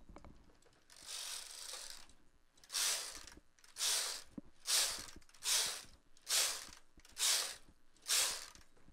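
A domestic knitting machine carriage sweeps across the bed knitting rows of white yarn for an elf hat, making about eight evenly spaced ratcheting whooshes with short pauses between passes, close and moderately loud.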